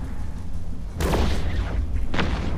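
Spaceships, including a Brutix, fire weapons in a low-security PvP fight in EVE Echoes: two heavy, booming shots about a second apart, each a sharp impact above a steady low engine drone.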